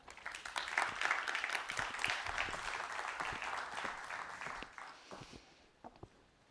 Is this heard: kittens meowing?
no